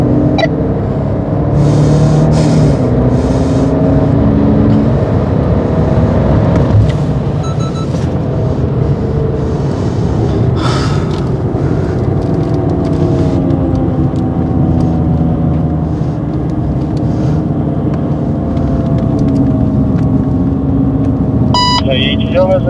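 A BMW M5 Competition accelerating on a race track at a driving centre, a loud continuous engine drone and road rumble inside the car, with an instructor talking over it.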